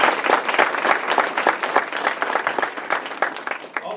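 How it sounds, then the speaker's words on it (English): A seminar audience applauds a panel at a college recruitment event: dense, steady clapping that fills the room, close and loud, with no voices over it. "Round of applause for you."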